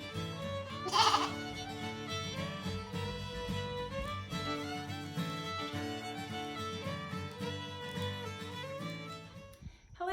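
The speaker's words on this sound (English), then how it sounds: "Here we have a Gulf Coast lamb." Gulf Coast sheep lamb bleating, one loud bleat early on over a steady backdrop of tonal, music-like sound that runs through the rest of the clip.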